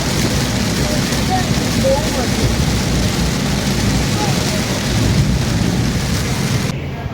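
Heavy rain falls outdoors during a thunderstorm, a dense steady roar of downpour with low rumbling thunder beneath, loud and enveloping throughout.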